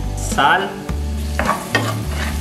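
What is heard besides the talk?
stirring a frying refrito of achiote, onion and garlic paste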